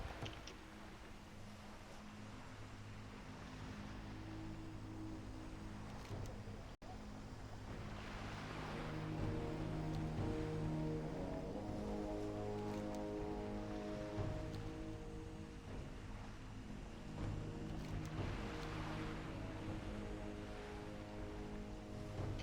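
A character swims a long way through water in a video game, with a faint, continuous wash of water and waves and low droning tones running steadily underneath.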